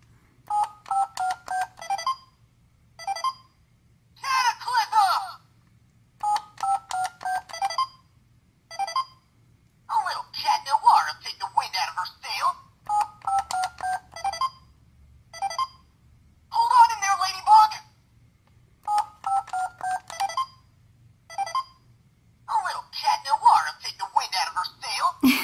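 Bright electronic beeps and chiming tones from a Miraculous Ladybug toy phone play in short, repeated bursts, separated by brief silences.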